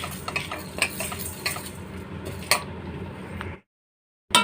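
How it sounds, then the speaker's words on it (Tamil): Lentils and chillies dry roasting in a pan without oil make close scraping and stirring clatter with light sizzle-like crackle, then the sound cuts briefly to silence before one final scrape. "நல்லா கொஞ்சம் ப்ரௌன் ஆகிற வரைக்கும் வறுத்துக்கலாம்"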